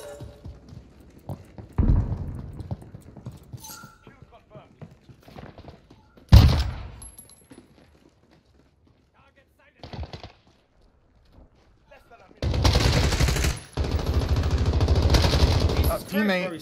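Bursts of gunfire in the shooter game Call of Duty Modern Warfare, with a single sharp shot, a few isolated cracks and later two sustained automatic volleys, mixed with quieter stretches of voices talking.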